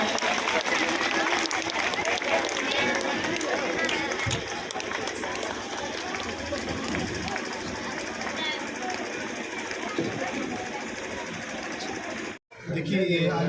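An audience applauds at the inauguration of Alpha International School in Piro: a steady, broad wash of clapping that runs almost the whole time under a speaking voice, with a brief dropout near the end.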